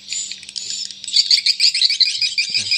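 Swiftlet colony call played through a bird-house speaker: dense, continuous high chirping and twittering, loud and steady throughout with no talk.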